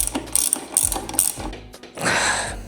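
A ratchet tightens a nut on the new EBR fork of a Piaggio NRG scooter, close up, in a run of quick clicking strokes followed by one longer, rougher grinding pull.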